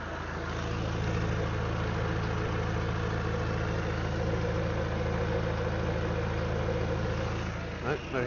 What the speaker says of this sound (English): Start the engine up. It's noisy, bloody thing.